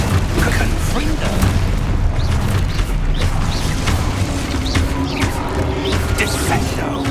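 Confringo fire spells blast in rapid succession during Hogwarts Legacy combat, dense booms and crackling impacts repeating over busy action noise.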